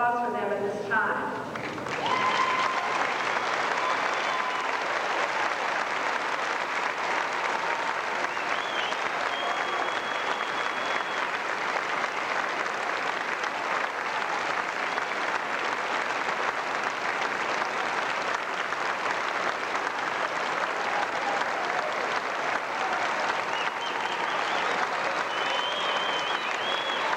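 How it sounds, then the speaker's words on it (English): Sustained audience applause at a 1996 graduation ceremony honoring students, a broad even wash of many hands clapping that continues for nearly half a minute after a brief spoken opening. "I would welcome your applause for them at this time"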